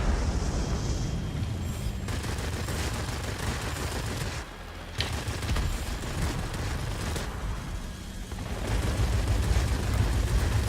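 Bombs and gunfire in World of Warplanes during air combat over a ground sector: dense, continuous bursts of rumbling explosions and rattling fire, with a brief dip in the middle before the din swells again.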